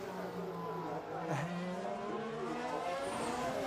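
Formula 1 race cars cornering at the Chinese Grand Prix, engines whining loudly and shifting pitch through the first turn, with a steady crowded roar of several cars close by.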